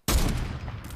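A single sharp gunshot in the video game Fortnite, loud and sudden, with a brief booming tail fading over about a second and no voices.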